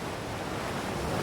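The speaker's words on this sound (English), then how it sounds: "can you hear the waves?" Ocean surf washing steadily onto a beach, a continuous broadband rush of breaking waves with some wind, close and even in loudness throughout, no voices.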